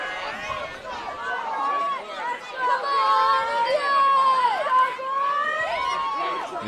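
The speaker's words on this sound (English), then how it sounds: "A good crowd here tonight, and a loud crowd based on what we can see." Fans at a high school football game between Triton and Amesbury fill the air with steady loud chatter, shouts and cheering voices up close.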